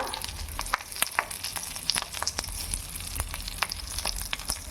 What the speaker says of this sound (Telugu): ఆయిల్లోకి వేసి ఫ్రై చేసుకోవాలన్నమాట